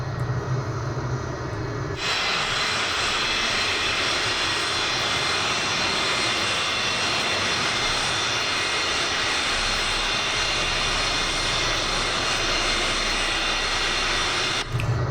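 Jet engine of a Vautour IIN aircraft in Microsoft Flight Simulator, a loud steady roar that rises abruptly and holds evenly for over twelve seconds before cutting off, with no talk.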